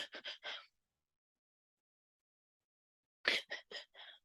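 A voice imitates a very young infant's periodic breathing: a quick run of four short breaths, a long silent pause of nearly three seconds, then another run of four breaths, close and quiet.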